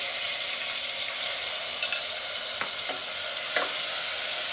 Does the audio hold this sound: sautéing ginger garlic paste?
yes